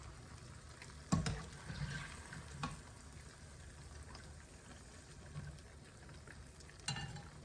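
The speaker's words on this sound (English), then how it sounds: "I'll have these soak in the meantime that I'm frying a set" Quiet frying of jalebi in hot oil, a soft continuous sizzle broken by a few clinks and stirring knocks.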